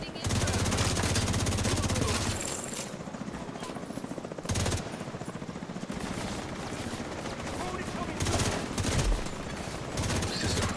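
Sustained gunfire in The Division 2 at an invaded camp, dense rapid bursts rolling almost continuously over a droning background, with a few louder cracks and players talking under the shooting.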